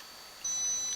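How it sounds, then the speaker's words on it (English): A steady high-pitched electronic beep starts partway through and holds, a microwave oven beeping faintly against quiet room tone. "You can hear the microwave yelling at me in the background because I'm not paying attention to it"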